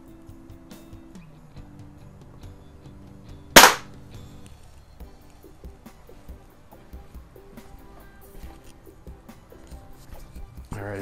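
A single sharp crack from a Daisy model 1140 air pistol rises out of a quiet indoor background, followed by faint low rustling and handling noise.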